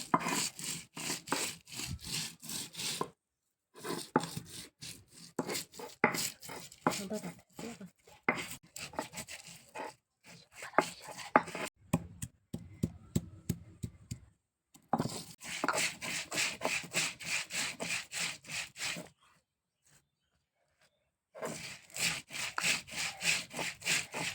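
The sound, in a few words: grinding chutney ingredients on a grinding stone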